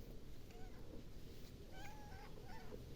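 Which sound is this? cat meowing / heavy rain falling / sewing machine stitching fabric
cat meowing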